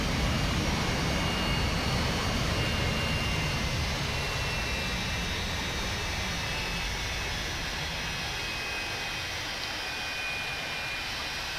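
Steady jet engine drone from a Hawk trainer jet in the Prepar3D flight simulator game, a continuous broadband roar holding at an even, moderate level without any voices.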